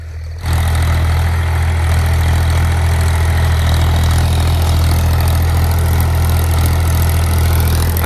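A tractor engine starts up and runs steadily, a loud, constant low diesel rumble that holds without break for about eight seconds, with no talking.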